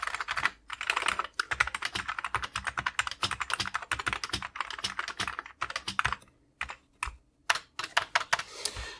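Rapid, close typing on an Amiga A600 computer keyboard, a dense clatter of plastic keystrokes broken by a few short pauses, with no voices.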